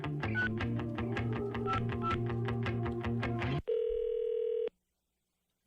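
A telephone call is placed: a quick run of about a dozen rhythmic dialing beeps, then a steady ringing tone for about a second, followed by silence.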